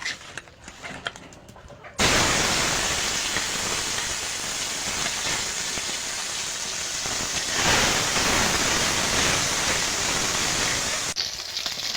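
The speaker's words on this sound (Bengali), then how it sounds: "মাছটা ভেজে নেব এবার।" Shingi and koi fish coated in salt and turmeric fry in hot oil in a kadai, giving a loud, steady, dense sizzle that starts abruptly and holds for several seconds before cutting off.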